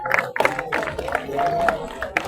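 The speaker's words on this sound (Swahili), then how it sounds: "Hebu tuwapigie makofi Kenya Scout Association ambao wanataka ku break hiyo rekodi" An outdoor crowd of Kenya Scout Association members and onlookers at a tree-planting record attempt claps in scattered, uneven bursts, with a voice talking over the applause throughout.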